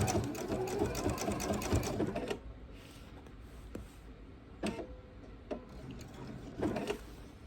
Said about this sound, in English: I don't have to worry about my needle breaking while I'm sewing